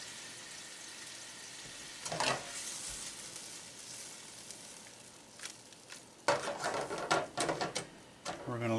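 Trout sauce with chopped parsley cooking down in a pan on high heat, a steady sizzle running throughout, with a louder burst of sizzling and stirring near the end.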